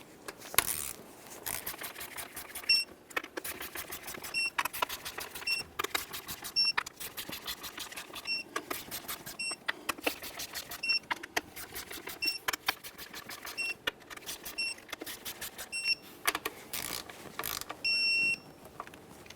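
On a 2007-2013 Acura MDX 3.7L V6, a torque wrench tightens intake manifold bolts to spec, with repeated ratcheting clicks in bursts and occasional sharp metallic ticks, close and steady throughout.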